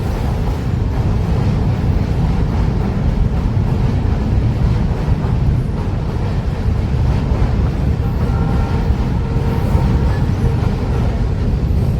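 A train rumbles past close by near a railway bridge, a loud, steady low roar with heavy wind buffeting lasting throughout, no talk.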